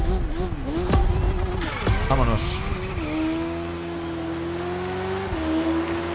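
Honda CBR motorcycle engine in the racing game The Crew Motorfest revs and holds a steady rising drone, with someone speaking over it throughout.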